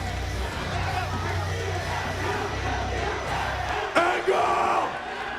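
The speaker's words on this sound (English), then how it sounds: "They're chanting in unison at Samoa Joe" A wrestling arena crowd chants in unison at Samoa Joe after his winning streak ends, a loud, dense roar of many voices filling the hall with steady rhythmic shouting.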